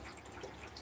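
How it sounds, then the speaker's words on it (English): Water drips from the roof eaves into the gutter on a warm, clear day: a faint, steady patter of drops with no voices. "I don't know if you can hear that, but there's actually water dripping down"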